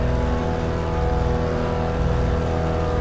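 A BMW race car in the iRacing game rolls into the pits after a race, its engine a steady low drone with a slight rise near the end, no voices.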